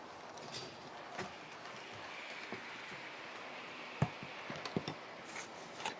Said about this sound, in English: So we've got the same trains running as last week